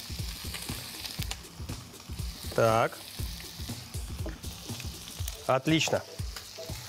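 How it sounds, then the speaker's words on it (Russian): Beef tongue sizzles in a hot pan with potatoes, a steady crackling fry punctuated by scraping and clinking of a utensil as pieces are turned, while someone says a few short words close by. "И сейчас на такой хорошей температуре мне нужно обжарить язык."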